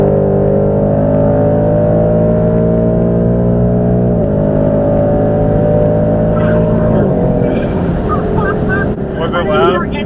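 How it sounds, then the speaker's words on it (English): A loud 2020 Ford Mustang GT accelerates past on a highway. Its steady, deep exhaust drone holds close and strong, shifts in pitch as the car goes by, and mixes with rushing wind near the end. "I didn't hear anything until the back end of your car passed me and my ears just started ringing."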